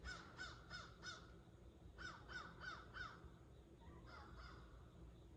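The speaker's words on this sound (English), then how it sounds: "It's really quiet, peaceful, except for that one bird" A crow caws from some distance on a quiet, foggy morning at Lake Eufaula, Oklahoma: two bursts of about four harsh caws each, then a fainter call, over soft, still background air.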